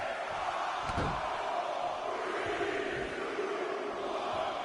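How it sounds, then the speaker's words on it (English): Crowd noise in a wrestling video game: a steady, distant wash of arena voices with a single dull thump early on and no clear counting rhythm audible. "Listen to this crowd count the next one in."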